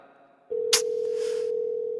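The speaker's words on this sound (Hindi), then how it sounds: "फोन क्यों नहीं उठा रहा है? दोबारा करता हूं। फोन नहीं उठा रहा है" A phone call that goes unanswered: a steady, continuous telephone tone sounds on the line after a click, alone apart from a brief rustle or knock.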